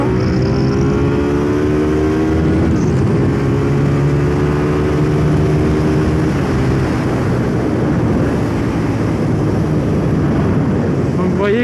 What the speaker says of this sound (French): elle accélère quand même très bien, hein